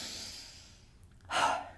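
A full, deep breath drawn in to fill the belly and ribs, then one short, breathy exhale pushed out through an open mouth; soft and close, with the quick out-breath louder than the long intake.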